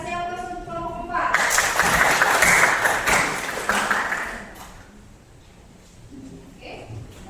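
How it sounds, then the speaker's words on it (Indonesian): A classroom group gives applause for a presenting team during a biology teaching assessment, a sustained burst of clapping of a few seconds that rises after a voice and then fades, with talk before and after. "Kelompok 4 kasih aplaus untuk kelompok 4"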